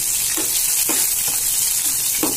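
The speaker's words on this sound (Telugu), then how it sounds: "ఇదిగోండి ఎర్రగడ్డలు ఒక గడ్డ వేసుకుని కొంచెం బాగా వేగాలన్నమాట" Chopped onions sizzle steadily in hot oil in a pan for a dal curry, with loud, close frying and a few soft stirring scrapes.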